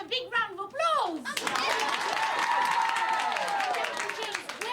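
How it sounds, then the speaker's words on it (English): Children's audience clapping and cheering in a dense, sustained burst, following a brief stretch of talk. "Uncle James, let's have a big round of applause"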